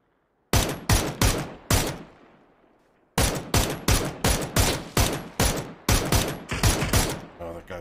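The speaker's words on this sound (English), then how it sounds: "What gun is that? Winchester?" Winchester rifle shots in PUBG: loud, sharp reports fired in quick evenly spaced volleys of about three to five, each with a short ringing tail, separated by a pause before the next string.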